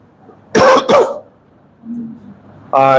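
A person coughs twice in quick succession, loud and close, followed by a quiet pause and the start of a voice.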